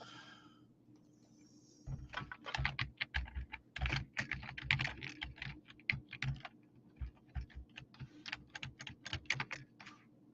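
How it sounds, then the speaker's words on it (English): Rapid clicking keystrokes on a computer keyboard, typed in uneven bursts with short pauses, close and fairly loud over a low steady hum. "my typing really sucks tonight, don't it?"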